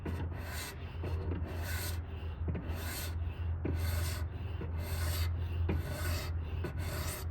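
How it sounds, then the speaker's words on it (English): A knife blade stroked repeatedly across a 3000 grit whetstone, giving steady rhythmic rasping passes, close and continuous over a low background hum, with no talking. "I'm gonna leave the 3000 grit stone in there, and we'll just shave a tiny, tiny bit."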